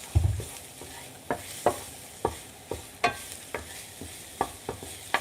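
Finely chopped garlic sizzles in oil in a pan under a low hiss, broken by about ten sharp scraping stirs at a fairly regular pace, close and clear with no talking.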